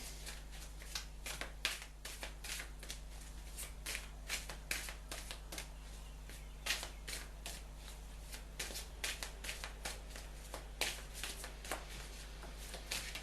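A deck of tarot cards is shuffled repeatedly up close, crisp riffling bursts and soft slaps over a quiet background hum.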